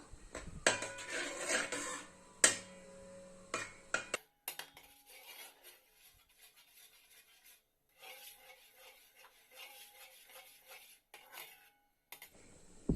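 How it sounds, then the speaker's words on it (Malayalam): Mashed chana dal for kadala parippu pradhaman being sautéed in a pan, heard as intermittent spoon scraping and clinking against the pan with soft rubbing stirs and quiet pauses; no voices. "ഇത് 2 മിനിറ്റ് ഒന്ന് വഴറ്റി കൊടുക്കാം."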